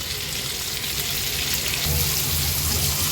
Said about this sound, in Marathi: गॅसची फ्लेम मिडियमवर ठेवून मागची बाजू पण आपण तीन ते चार मिनटासाठी फ्राय करून घेणार आहोत